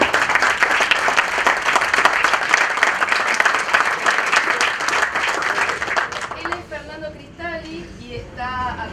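An audience at a book fair stage presentation gives sustained, loud applause that fades after about six seconds, then a voice begins speaking.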